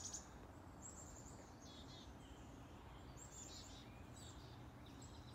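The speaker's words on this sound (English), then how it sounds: "I love listening to the sound of the birds." Birds singing and chirping along a wooded nature park trail by a lily pond in Oregon's Tualatin Hills, scattered high calls drifting in over a steady outdoor hiss, fairly faint and distant, with no talking.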